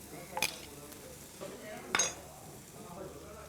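Quiet stirring of coriander, pepper, turmeric and masala powders frying on low heat in a clay pan, with a soft scrape and faint sizzle broken by two sharp clinks of the spoon against the pan.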